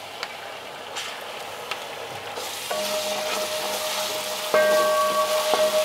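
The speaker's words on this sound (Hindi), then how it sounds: "और इस पेस्ट को हमें अच्छी तरह भून लेना है ताकि इसका जो कच्चापन है वो खत्म हो जाए अदरक लहसुन का" Ginger garlic paste sizzles and fries in a pan with browned onions for a restaurant-style methi matar malai, a steady close crackle with occasional stirring scrapes that grows louder toward the end.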